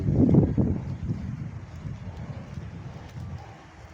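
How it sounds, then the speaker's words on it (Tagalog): Low, blustery typhoon wind rumbling against the microphone in Parañaque, strongest at first, then a steadier gusty roar. "hindi pa siya malakas ang hangin"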